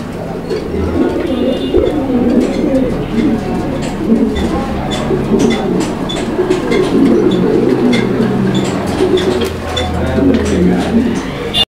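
Male pigeons of fancy breeds such as Raj-golla, Beauty Homer and Bara-payra coo in a loft, a continuous low rolling, throaty coo close by with other birds murmuring behind and faint voices in the background.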